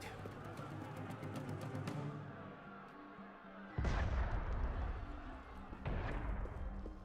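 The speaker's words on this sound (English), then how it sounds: "Sometimes opportunity sounds a lot like cannon fire." Cannon fire in the video game Assassin's Creed Unity comes as two heavy, booming blasts a couple of seconds apart. They land over a busy, noisy game scene with ongoing ambience.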